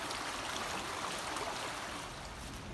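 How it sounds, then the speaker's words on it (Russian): A small river flowing near a footbridge by a hotel garden in Quba, a soft continuous rushing hiss of water, even and unbroken, heard alone at low volume. "Вот так стоишь около речки, и все нервы твои уходят вместе с этой водой, шум воды"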